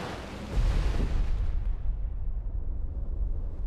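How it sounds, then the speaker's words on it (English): Depth charges detonate in the naval video game Destroyer: The U-Boat Hunter. A deep, loud underwater blast rises after a brief lead-in and rolls on as a sustained low rumble, with no voices over it. "Ready depth charges. Shallow pattern."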